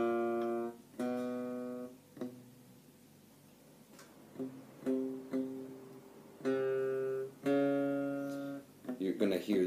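Guitar notes from a spider-walk finger exercise plucked in uneven bursts, some ringing full and others cut short and muted where a fretting finger brushes the neighbouring string, with quiet gaps between phrases.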